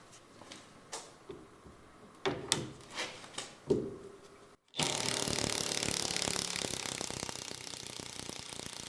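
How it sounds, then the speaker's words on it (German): Ratchet with a 17 mm socket loosening the lower nut of a rear shock absorber on a BMW E87/E81, first several separate clicking strokes, then a sudden steady rush of fast continuous ratcheting. "Zum Schluss noch die Mutter hier unten mit einer 17er Nuss abschrauben"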